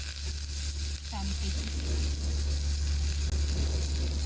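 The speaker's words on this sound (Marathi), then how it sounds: "थोडंसं अजून तेल घालू आणि हा सगळं कढीपत्ता आपण ह्याच्यात घालू" Curry leaves sizzle in hot oil in a pan, with sesame seeds toasted just before, while making curry leaf chutney; a steady, loud frying hiss runs throughout, with a brief stir near the start.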